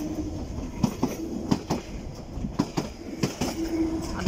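An underground train departs Cockfosters station nearby, rumbling past with rhythmic clickety-clack from the wheels over the rail joints and faint squealing, the noise steady throughout.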